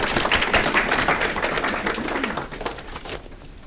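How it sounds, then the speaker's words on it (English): A room audience gives a round of applause for a speaker at an Andy Warhol talk, dense steady clapping that is loud at first and then gradually thins out and fades. "Let's give him a round of applause."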